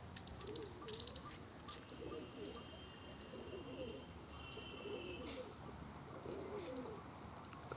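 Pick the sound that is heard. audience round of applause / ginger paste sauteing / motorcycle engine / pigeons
pigeons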